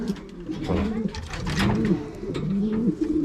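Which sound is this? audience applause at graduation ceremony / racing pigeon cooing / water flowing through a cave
racing pigeon cooing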